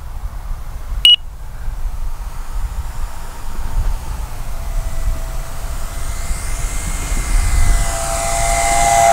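E-flite EC-1500 twin-engine RC airplane making a low pass down a runway, a steady electric motor whine with a rising tone as it nears, after a sharp beep at the start.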